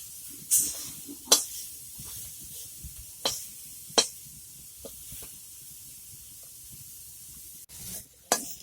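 Coriander leaves frying in a pan as their water cooks out, faint crackling under repeated sharp hissing bursts and stirring scrapes, close-up.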